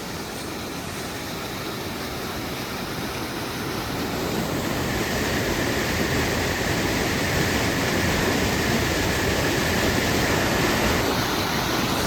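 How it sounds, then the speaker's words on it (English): Raging water pouring over Purgatory Falls inside a cavern-like gorge, a dense, steady roar close by that swells slightly louder partway through and holds constant without any voices. "That water is raging right here."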